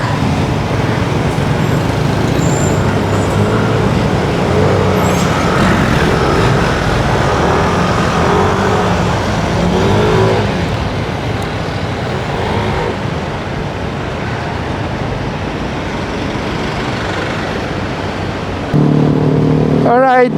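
Continuous road traffic noise on a busy street in Pasig, Philippines, a steady wash of car, bus and truck engines with no speech, growing a little louder near the end.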